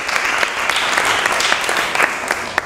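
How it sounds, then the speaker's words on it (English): Steady applause from a debate audience, many hands clapping in a dense, continuous wash with a few sharper claps standing out. "Can we have a round of applause for that one?"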